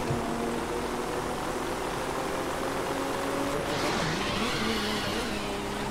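A car engine in the racing game The Crew 2, straining to pull away: a steady, droning hum at a held pitch that dips briefly and then carries on without gaining speed.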